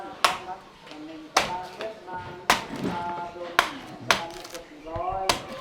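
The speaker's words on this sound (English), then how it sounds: "Micah, Grandma's cutting your coconut." A grandmother chopping open a coconut for breakfast in a Thai village, a series of sharp, loud knife strikes about once a second, each ringing briefly, with voices and household sounds in between.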